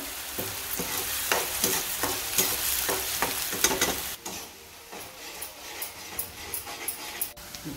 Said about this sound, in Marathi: चांगला लालसर होईस्तोवर कांदा परतून घ्यायचं